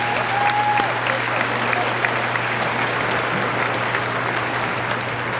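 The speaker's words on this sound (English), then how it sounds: "give yourself a round of applause" An audience at a 2019 high school graduation ceremony applauds, a dense, steady clapping from a large crowd that continues evenly and fills the room from start to finish.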